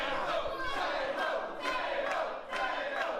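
A wrestling crowd in Margate shouts and chants for the table, a dense, loud roar of many voices swelling in repeated surges.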